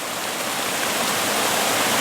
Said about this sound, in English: I like the way the water is flowing over the rocks in the foreground here